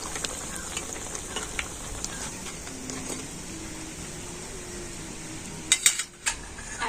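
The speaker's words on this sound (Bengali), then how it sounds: "একইভাবে বাকি মালপোয়াগুলো আমি ভেজে নেব" Malpua made from ripe mango and semolina batter frying in hot oil, a soft steady sizzle with faint clinks of utensils and a few louder clatters near the end, close and with no talk.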